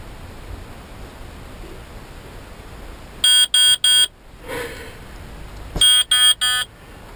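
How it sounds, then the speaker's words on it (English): Two bursts of loud, sharp electronic beeping from a heavy-haul truck's maintenance alarm, three pulses each, separated by a brief quieter tone, over a faint steady hiss. "maintenance thing will start beeping."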